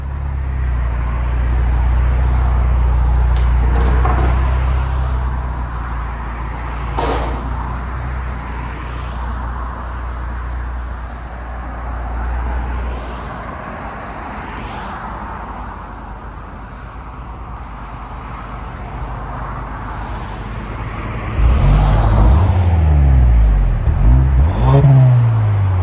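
2024 Hyundai Sonata N-Line 2.5L with a Valvetronic Designs universal muffler and resonator removed, engine droning and revving as it drives down the road, a deep exhaust tone swelling again near the end.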